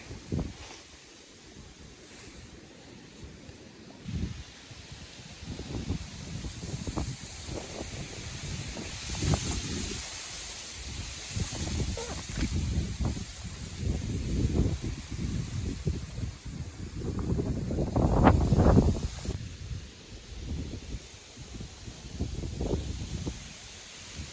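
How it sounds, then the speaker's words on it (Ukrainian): Gusty wind blows across the microphone outdoors while fishing for crucian carp, roaring in uneven surges and building to a strong gust near the end. "Да, вітер, звісно, не стихає"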